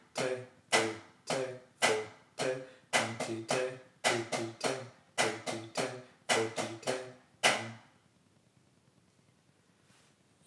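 A drum exercise of eighth notes with an accent tap pattern: a steady run of about twenty sharp, close strokes with varying loudness, then the playing stops into near silence.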